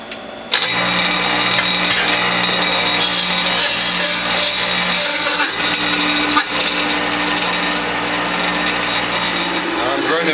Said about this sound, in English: So the first thing I'm going to do is shred the rind with the turmeric and the ginger.